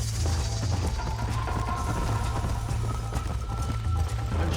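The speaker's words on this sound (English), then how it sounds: "Gotta say, this is a good workout for our horses." Horse galloping in the video game Red Dead Redemption, a steady stream of rapid hoof clip-clops running continuously over a dense game soundscape, close and fairly loud throughout.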